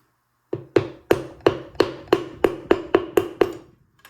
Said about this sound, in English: you could take a piece of the handle of the wooden hammer